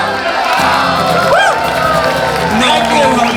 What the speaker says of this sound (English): Keep those voices going, keep that applause going.